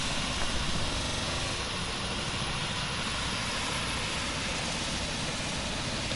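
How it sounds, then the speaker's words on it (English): A helicopter flies in the Roblox game PTFS, giving a steady, loud whirring engine drone that stays constant throughout with no talking. "We're in a helicopter right now."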